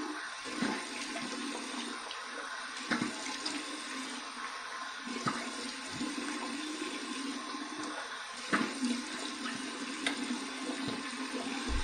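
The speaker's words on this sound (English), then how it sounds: "cold water rinse." Cold tap water runs for a rinse after a shave, a steady splashing gush with periodic sharper splashes and knocks as hands and face move under the stream, close and continuous.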